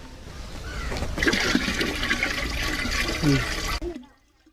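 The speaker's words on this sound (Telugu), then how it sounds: "ఈ డ్రమ్ము నిండా నీళ్ళు నింపుకున్నాం కదా" Water rushes steadily into a 100 litre drum for about four seconds, a close, full gushing that stops abruptly.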